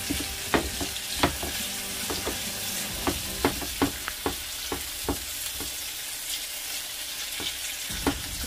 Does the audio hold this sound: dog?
no